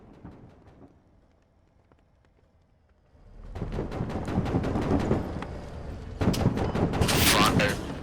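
Tank gunfire in the military video game Squad: after a quiet stretch, dense bursts of rapid shots and booming blasts erupt and continue loudly, with a voice faintly audible near the start.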